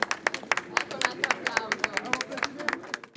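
Tourists outdoors in Venice clap for the Italian President as he passes toward the Doge's Palace. The irregular applause of a modest crowd sounds nearby, with a murmur of voices underneath.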